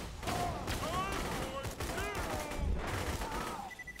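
Gunfire in the video game Borderlands 2 as a dense string of rapid shots and ricochet-like whines, fairly loud and continuous, with voices talking in the background.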